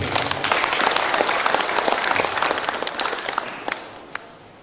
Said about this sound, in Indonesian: Tepuk tangan dong untuk Unsa.